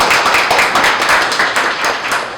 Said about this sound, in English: Everybody give him a round of applause as well.